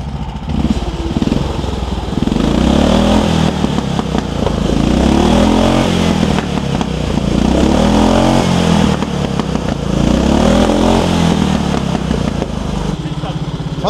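Two engines on a motorized sofa idle and rumble together in a loud, steady, throbbing drone, with people talking over the running motors throughout.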